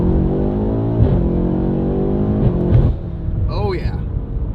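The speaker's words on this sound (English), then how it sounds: "But let's go ahead and get a full throttle pull right here." A BMW M8 Competition fitted with downpipes accelerates at full throttle, a loud close engine note rising steadily in pitch, broken by brief shift breaks around one and three seconds.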